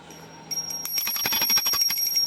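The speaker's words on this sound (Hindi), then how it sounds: "हम घंटी बजाकर आरती कर लेंगे।" A small prayer bell rings rapidly and repeatedly during a Hindu aarti, bright metallic strikes following a quieter start, continuing steadily close by.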